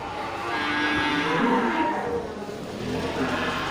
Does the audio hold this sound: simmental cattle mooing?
yes